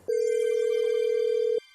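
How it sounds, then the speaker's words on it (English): A telephone rings back during a call: one long, steady electronic tone lasting about a second and a half, clean and alone, starting and stopping abruptly. "It's ringing now."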